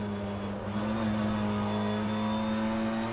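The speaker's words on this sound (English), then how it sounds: "The audio is absolutely incredible. It's so raw, it's so loud. You feel like you're in a touring car." A touring car engine from the BTCC racing game rFactor 2 drones loudly and continuously, a raw, steady engine tone with a slight rise in pitch, heard alone.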